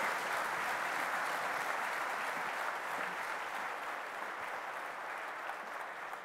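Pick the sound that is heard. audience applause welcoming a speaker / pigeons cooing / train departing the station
audience applause welcoming a speaker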